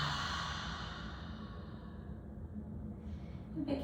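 A long, deep exhale through an open mouth, a breathy sigh that starts strong and slowly fades over a few seconds, close to the listener.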